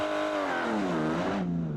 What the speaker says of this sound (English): it's impossible to say anything while this car is accelerating. It's just so loud.